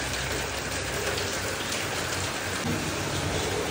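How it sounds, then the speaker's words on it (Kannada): Heavy rain pours down steadily at a home, a dense, even hiss of drops hitting surfaces that fills the scene without pause and with no voices. "ಬಿಸಿ ಇದ್ದೀನಿ ನೋಡಿ ಗೈಸ್, ಹೆಂಗೆ ಬರ್ತದೆ ಮಳೆ."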